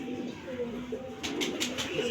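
Pigeons cooing at close range, soft throaty coos under steady background noise and a faint voice.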